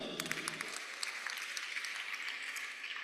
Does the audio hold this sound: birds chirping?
no